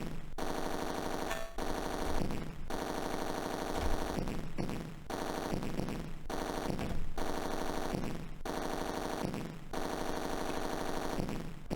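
Auto fire in the Atari ST rail shooter Roller Coaster Rumbler, a steady rapid chiptune-style machine-gun rattle repeating throughout, broken at regular intervals by short bursts of heavier noise over constant electronic game sound.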